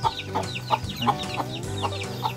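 Highland black chickens of a local ethnic breed in a family's coop, clucking in a steady, repeated rhythm, several birds close by with low murmuring mixed in and no voices heard.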